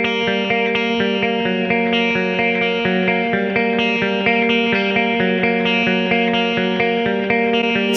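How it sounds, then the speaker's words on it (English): Clean electric guitar, a Jeff Loomis Toneforge 7-string tone, plays sustained notes and strums drenched in ambient reverb and delay, the tones ringing and overlapping into a shimmering wash, with no voices. "It had like nice ambient reverb going on, a little bit of delay"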